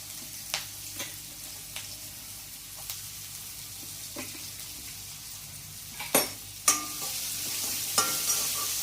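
Onion frying in hot oil with asafoetida and curry leaves, a low background sizzle broken by sharp clinks and scrapes of a spoon against the pan, close by, with no talking.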